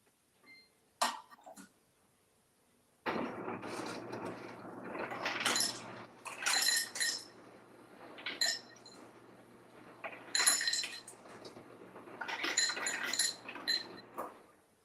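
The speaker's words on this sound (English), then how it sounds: "So we're going to get a glass, put some ice in it." Ice cubes clink and rattle into a glass in a home kitchen while limeade is being made, several bright bursts of clatter with cupboard and dish handling between them, close and fairly loud with no talking.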